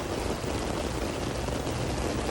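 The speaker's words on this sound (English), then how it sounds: "Camaro in the rain." Steady rain pours onto a Camaro convertible, a dense, even wash of drops hitting the car with no pause, loud and close throughout.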